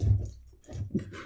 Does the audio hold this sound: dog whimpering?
yes